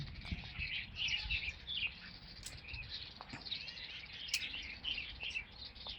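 A flock of birds feeding outdoors in an autumn nature setting chirps steadily, with bright high calls and tweets overlapping in a continuous chorus and a faint insect-like hum beneath. No one speaks.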